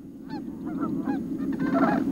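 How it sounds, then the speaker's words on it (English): Geese honk boisterously in a marsh, a series of loud, overlapping calls rising over a steady background hum, close and continuous throughout. "honking boisterously and disturbing the stillness of the marsh"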